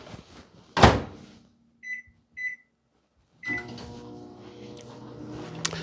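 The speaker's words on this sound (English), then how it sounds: "I'm going to put it back in the microwave for probably another 45 seconds." A kitchen microwave oven is closed and started, with a door thud, two short beeps, then a steady low hum as it runs to melt white chocolate, close and without talk.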